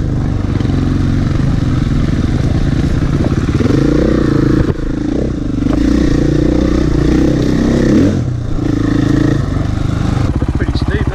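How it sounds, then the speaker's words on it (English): A KTM 500 EXC motorbike climbs a steep dirt track, its engine a loud, sustained buzzing drone with surges of revving and clattering, near and continuous, while people talk nearby. "Little trials bike through here."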